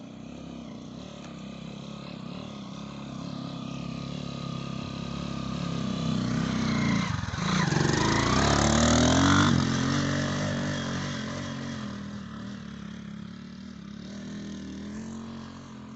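A motorbike engine runs at the base of Thal hill top after a rough bike track. It hums steadily, then swells louder as it revs near the middle before easing back to an idle-like drone.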